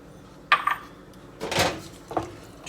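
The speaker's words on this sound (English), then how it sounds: "I'm going to mix it all up." Spices and herbs, including a quarter teaspoon of cayenne pepper, stirred together in a bowl for cauliflower dirty rice, giving a few close, sharp clinks and scrapes of a utensil against the dish with short pauses between.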